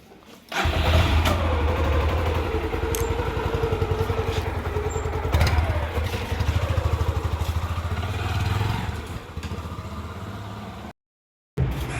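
A motorcycle engine rumbles steadily up close for about ten seconds, a continuous low throb that cuts out abruptly near the end.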